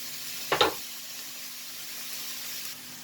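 Butter sizzling in a hot pan while zurna dürüm cooks, a short burst of crackling spatter followed by a steady, soft frying hiss, close and alone.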